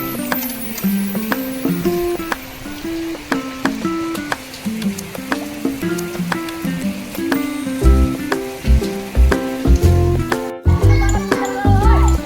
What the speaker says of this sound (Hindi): बारिश भी स्टार्ट हो गई थी।